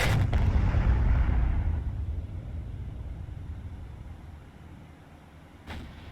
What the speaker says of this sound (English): Everyone's firing on that transport.